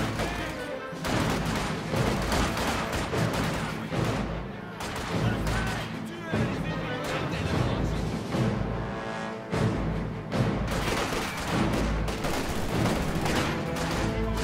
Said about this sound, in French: Les premiers coups de feu retentissent sur le territoire.